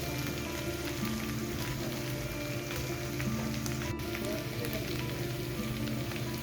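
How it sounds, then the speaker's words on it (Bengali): Spice paste fries in a pan with a soft, steady crackle and sizzle like light rain, fairly faint and constant, with one sharp tick midway. "আর এই মশলাটা আমি ততক্ষণ কষাবো, 5 মিনিট ধরে কষিয়ে নেবো"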